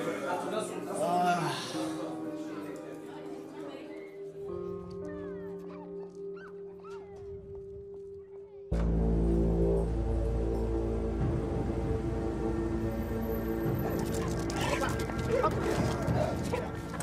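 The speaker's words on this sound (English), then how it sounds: "Specialist dogs have been called into Aylesbury Prison to hunt for drugs and other contraband items." Drug-detection dogs searching a prison bark, yip and whimper in scattered bursts, mixed with metallic clanks and background music, the sound shifting abruptly partway through as the scene changes.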